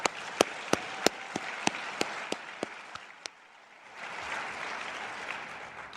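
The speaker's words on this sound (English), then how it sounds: "Let's give them all a big round of applause." Scattered claps from a small audience honoring NHRA drag racing champions, a few sharp separate hand claps at first, then fading before a softer, steadier round of applause rises near the end.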